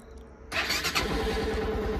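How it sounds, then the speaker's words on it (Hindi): After half a second of quiet, a motorcycle engine fires up close by and settles into a loud, fast, even idle putter, with no voices. "मैं अभी पहले बाइक को स्टार्ट कर देता हूँ।"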